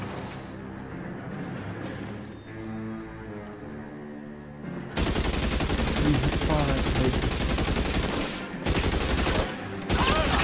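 A gunfight in the crime video game L.A. Noire, with a tense lead-in giving way to loud, sustained bursts of rapid gunfire that briefly pause and resume.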